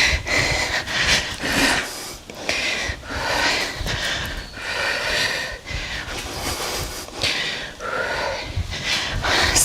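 Heavy, rhythmic breathing during a squat jack exercise, loud close huffs and snorting exhales repeating roughly every second, with no talk.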